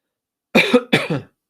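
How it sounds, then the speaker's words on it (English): Two quick, close, loud coughs in a row, each a harsh burst, with silence before them. "I got a cough."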